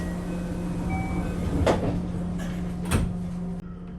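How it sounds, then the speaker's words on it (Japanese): A local train departs Nagahama station bound for Tsuruga, giving a steady low motor hum with two distinct clunks partway through before the sound drops off abruptly near the end. "長浜駅を発車。 まずは敦賀駅を目指します。"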